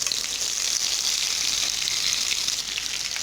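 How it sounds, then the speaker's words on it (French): Potato and tuna maakouda patties fry in a pan with a steady, dense sizzle that holds evenly throughout, close and fairly loud with no talk over it. "je vais les laisser cuire un petit peu de ce côté et ensuite je vais les retourner"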